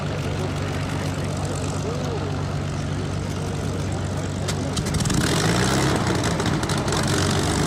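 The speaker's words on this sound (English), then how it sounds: "This Spitfire spitting flames." Supermarine Spitfire fighter with a steady, loud propeller engine drone throughout, growing rougher and louder in its last few seconds as the exhaust spits flames.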